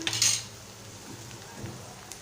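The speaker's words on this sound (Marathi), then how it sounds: "टोमॅटो घालत आहे" Tomatoes dropped into a pan of oil-fried onion and green chili for a Malvani-style tomato dish, a brief close sizzle and clatter at the start that fades into faint frying crackle.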